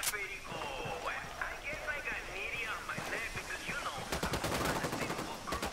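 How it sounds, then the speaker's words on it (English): Rapid bursts of automatic gunfire in the video game Ghost Recon Wildlands crackle loudly over game sounds and radio chatter, building into a dense volley near the end. "I'm opening fire on these shitheads."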